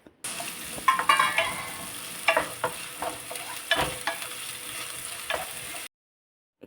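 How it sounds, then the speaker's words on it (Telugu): Onions and green chillies fry in hot oil in a pan, a soft steady sizzle broken by clinks and scrapes of stirring, with no voices. "హీట్ అయిపోయిన తర్వాత మనము ఆనియన్స్, పచ్చిమిర్చి యాడ్ చేసేసుకున్నాము."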